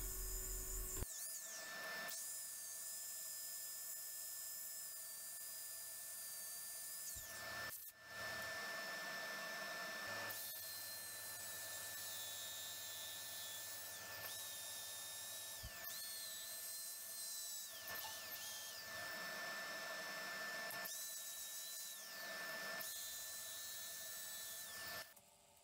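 Sander or lathe running steadily on a turned wooden lidded dish, a continuous close whirring with a high tonal whine, dropping out briefly a few times as the tool lifts off; no talking.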